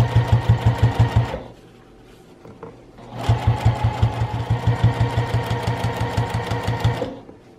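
Sewing machine stitching fabric for a knitting and crochet needle case, two bursts of fast, even mechanical chatter separated by a short pause to turn a corner, loud and close with no talk.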